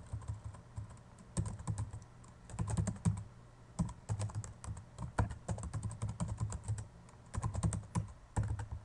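Rapid, uneven bursts of keystrokes on a computer keyboard as a name is typed into a sign-up form, close and fairly quiet, with short pauses between runs of keys and no talking.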